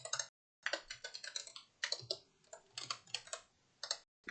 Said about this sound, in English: Can't talk while I'm typing